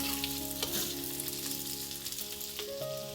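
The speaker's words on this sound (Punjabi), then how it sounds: "ਇਸ ਤਰ੍ਹਾਂ ਚਲਾਉਂਦੇ ਹੋਏ ਤੇਲ ਦੇ ਵਿੱਚ ਭੁੰਨ ਲਵਾਂਗੇ ਗੈਸ ਦੀ ਫਲੇਮ ਨੂੰ ਫੁੱਲ ਹੀ ਰੱਖਾਂਗੇ" Boiled potatoes frying in oil in a pan over a full gas flame, giving a close, steady sizzle with faint stirring scrapes and no talking.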